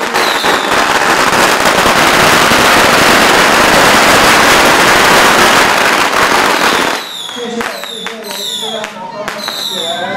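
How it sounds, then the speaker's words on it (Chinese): Strings of firecrackers go off to greet a township chief candidate on a village canvassing tour in Xiulin, a loud, dense crackle of rapid bangs for about seven seconds that then stops, leaving sparse pops and background crowd noise. "所到之处都有乡亲准备鞭炮来热烈欢迎"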